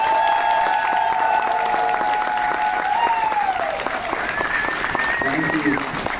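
Audience applause at the Tails And Tornadoes 2021 closing ceremonies, sustained dense clapping from a crowd, loud and continuous, with a voice talking over it.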